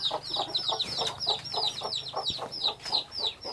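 Chickens clucking and calling indoors inside a dim earthen-floored rural house in Vietnam, a steady run of short, fairly close clucks repeating through the clip with a low background hum and no talking.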